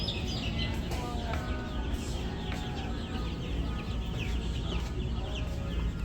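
Black Jersey Giant chickens cluck and chirp in a busy, continuous chorus inside a Tractor Supply farm store, loud and close amid indoor room noise, with no talking.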